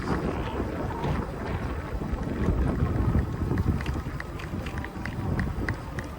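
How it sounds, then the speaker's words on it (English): Kingbull Hunter eBike ridden on throttle alone through muddy grass, with steady wind buffeting the microphone and rustling, splashing tyre noise throughout; no engine note stands out, and the riding sound stays broad and constant. "Let's go right through this muddy grass. Throttle only."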